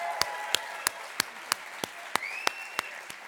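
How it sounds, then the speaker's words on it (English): Evenly spaced sharp claps at an awards gala, about ten in a steady quick rhythm, fairly faint and isolated rather than a full crowd ovation. "Please give her a round of applause."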